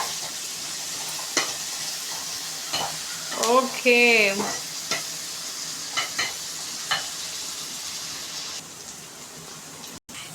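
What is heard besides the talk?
soaked soya chunks stir-frying in pan for Hakka noodles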